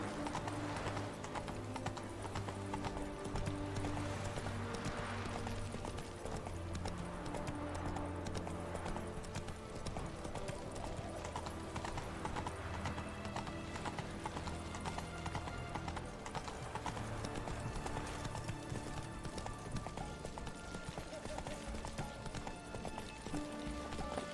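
Horse hooves clip-clop at a steady, even trot in the video game The Witcher 3: Wild Hunt, a continuous quiet rhythm set against a bed of game music.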